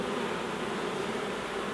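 Honey bees buzzing around a beehive, a dense continuous drone of many insects close by, steady and unbroken without any voices.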